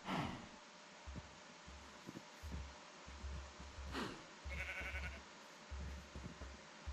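Repeated sheep bleats from a Minecraft survival game, several short calls scattered across the stretch at moderate volume, with a low rhythmic thumping of footsteps underneath and no talk.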